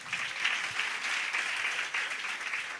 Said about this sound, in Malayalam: നമുക്ക് ജെർമിക്കായി ഒരു കൈയടി കൊടുക്കാം